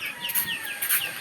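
Chickens cluck and chirp while being fed, several short bright calls in quick succession at moderate loudness, with no voices over them.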